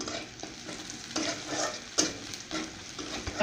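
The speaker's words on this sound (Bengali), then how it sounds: "তিনটা রসুন হালকা ভাজবো লাল লাল করে" Garlic, with onion, frying lightly in oil in a pan until reddish, a steady close sizzle with scraping stirs and a sharp utensil knock near the middle, no talking.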